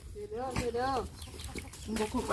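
Chickens and other farmyard fowl cluck in short repeated bursts close by, with a voice talking over them.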